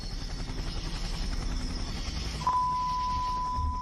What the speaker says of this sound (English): You can hear a helicopter. They added helicopter noise in post.